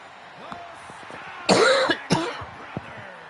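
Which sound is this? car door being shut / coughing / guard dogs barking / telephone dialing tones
coughing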